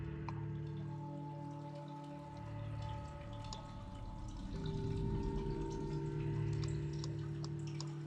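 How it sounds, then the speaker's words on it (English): Flowing water inside the puzzle video game Sisyphus Reborn, a steady soft trickle and drip under low game music tones, fairly quiet and continuous throughout. "Water."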